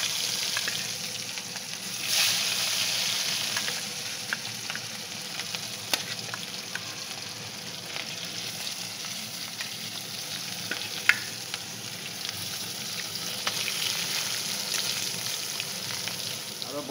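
Fish frying in a pan with potatoes nearby, giving a steady close sizzle and crackle throughout, with a few sharper pops and no talk.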